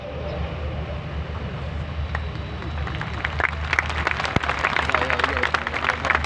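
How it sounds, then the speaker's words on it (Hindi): An audience claps at an Islamic lecture in Faisalabad, a dense crowd applause that builds from a soft patter into sharper, louder claps toward the end, with no speech heard over it. "आपने सुन लिए, आपने ताली बजा दिए।"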